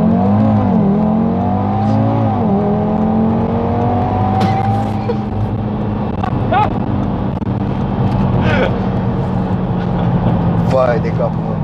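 Audi TTRS accelerating hard, the engine note climbing steeply through the gears with revs rising and briefly dropping at each shift, loud and close from inside the car, with voices talking over it.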